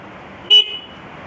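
A short, sharp motorcycle horn beep sounds once, loud and close, over a low steady hum, during a horn repair.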